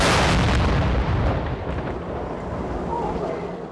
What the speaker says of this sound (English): Police were satisfied it posed a potential threat, leaving them no choice but to detonate the mysterious package.